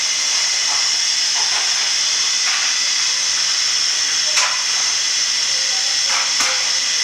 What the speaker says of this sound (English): So I'm going to light my stove.